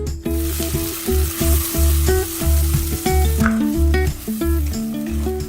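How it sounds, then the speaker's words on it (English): An onion mixture sizzles loudly in hot oil in a pan for a dried sprats dish, a dense continuous frying hiss with rhythmic stirring knocks running through it. "Again heat some oil in a pan and then put onion mixture into this."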